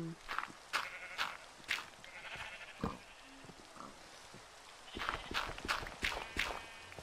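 Minecraft sheep on a game farm bleat in scattered short bursts, mixed with clicking game sounds and footstep-like taps, several calls spaced across the stretch at moderate loudness.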